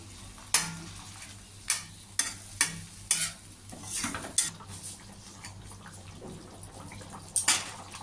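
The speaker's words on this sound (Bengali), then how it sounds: "এবার আমি মাছগুলো দিয়ে দেবো তার সাথে আমি চেরা কতগুলো কাঁচা লঙ্কাও দিয়ে দেবো ঝোলটা কিছুক্ষণ ফুটবে" Tengra fish curry with slit green chillies simmering in a pan, with a low steady bubbling bed broken by several sharp clinks and scrapes of a utensil against the pot, close and alone without talk.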